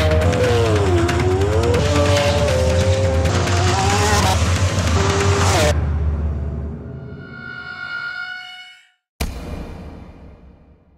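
A Lamborghini Aventador accelerates hard on the Nardo Ring test track, its engine roaring loud and close with rising and shifting pitch, then fading quickly into the distance before a sharp burst and a lingering drone.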